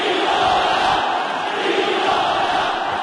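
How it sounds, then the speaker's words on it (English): An arena boxing crowd at the Brian Viloria vs Ulises Solis fight chants Viloria's name, a loud, dense and continuous roar of many voices with a rhythmic swell. "Chanting Viloria's name."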